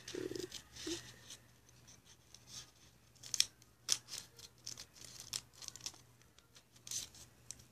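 Scissors cut through a paper card in quiet, irregular snips and rustles, with several sharper closing clicks spaced a second or so apart, faint and close with no talk.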